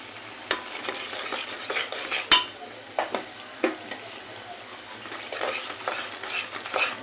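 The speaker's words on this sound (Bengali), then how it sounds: "ভালো করে কষিয়ে নিই।" Spices being sautéed in oil in a pan, with a spoon scraping and stirring in uneven strokes over a soft, steady sizzle and occasional sharp clinks against the metal.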